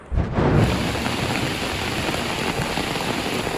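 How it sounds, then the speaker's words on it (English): Heavy rain pours down in a Colombian forest, starting with a brief low rumble and then settling into a loud, dense, steady hiss of falling water close by. "Started to spit and then drizzle and then pour"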